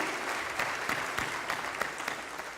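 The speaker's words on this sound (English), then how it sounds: "You all give him a round of applause." Audience applause for a police captain at a mass graduation ceremony for Black men, a dense, even wash of clapping from a crowd that carries on steadily at a moderate distance.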